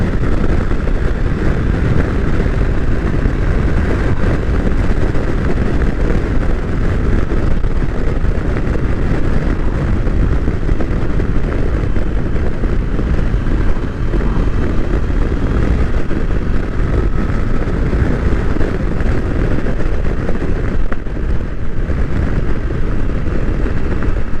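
A Triumph Tiger Sport 660 motorcycle ridden along a curvy road gives a loud, steady, unbroken engine drone mixed with heavy wind rush, heard close up throughout without any talking.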